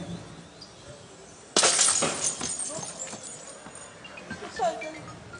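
A thrown glass bottle shatters near a camera crew outside a drilling and workover compound in Moonilal, one sudden loud crash followed by tinkling fragments, with people talking in the background.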